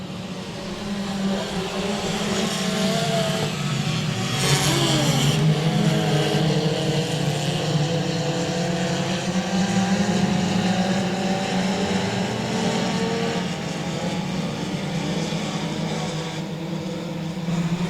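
Race cars roar around the Boothill Speedway oval in a steady, loud wall of engine noise, with one car's pitch rising and falling as it passes close by mid-clip; no one speaks.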